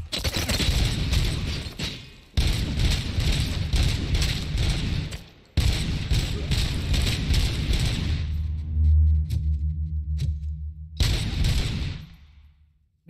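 Gunfire in the RoboCop Rogue City video game, with sustained bursts of loud rapid shots broken by short pauses and a final burst after a quieter stretch.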